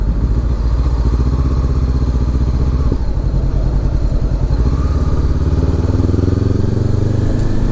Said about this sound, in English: this exhaust is yeah, it's definitely loud. It's louder than the standard pipe